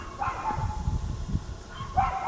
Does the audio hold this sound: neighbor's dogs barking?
yes